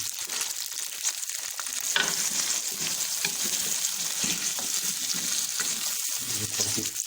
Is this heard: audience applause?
no